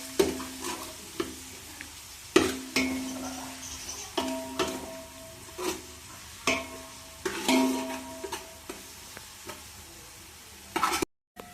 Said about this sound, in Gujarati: અને લસણ આપણે થોડીક વાર તેલમાં કડવા દઈશું.